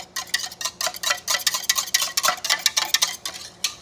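Whisk beating through a strawberry cream soy wax candle mixture in a bowl, making rapid, close, bright rhythmic scraping and tapping strokes with no talk.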